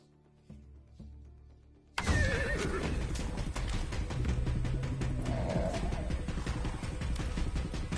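A horse whinnies and its hooves clip-clop in the Far Cry 6 video game, arriving suddenly and loudly after a quiet musical stretch, with game sounds continuing around it.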